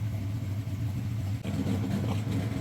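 A 1955 Chevy Tri Five barn find settles into a steady, rumbling idle close by, its low engine note continuous with a slight shift in tone partway through.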